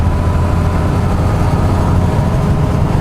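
A motorcycle engine drones steadily and loudly while riding a winding road, a continuous low rumble with wind, no talking.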